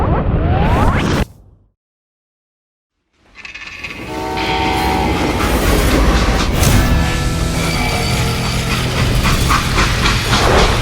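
Train running in the Western shooter Call of Juarez Gunslinger, a loud sustained rumble and clatter of railroad cars with whooshing and a horn, starting after a brief silence and continuing steadily.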